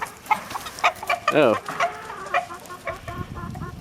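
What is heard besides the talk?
chickens clucking while a rooster is chased by a dog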